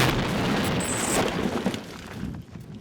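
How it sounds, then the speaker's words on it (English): Dynamite explodes inside a room rigged to be painted by the blast, producing a loud, dense roar that fills the space and slowly fades over about three seconds. "There's the explosion."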